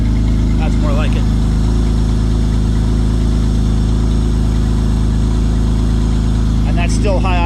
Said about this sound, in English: that's still high idle because it hasn't warmed up yet